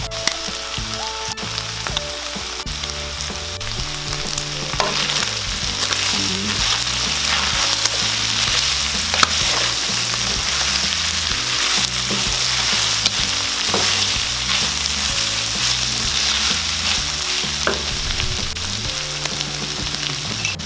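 Beef innards sizzling in a pan with oyster sauce, a loud continuous crackle with stirring scrapes, over steady music.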